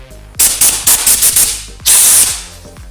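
Iwata LPH80 mini spray gun spraying paint for a small car handle repair: several short hissing bursts in quick succession, then one longer loud hiss, very close.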